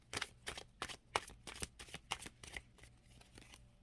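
Tarot cards shuffled by hand in a steady series of about ten crisp riffling bursts, close and moderately loud, with no talk.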